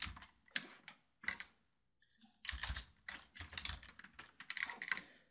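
Fingers typing on a computer keyboard in quick close-up bursts of clicking keystrokes, with a short pause midway, alone and fairly quiet.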